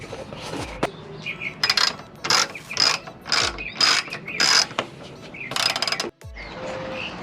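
Ratchet clicking as seat screws come out of a Yamaha R6 motorcycle, a series of short rhythmic bursts of metallic ticking with small pauses, close up and with no talk.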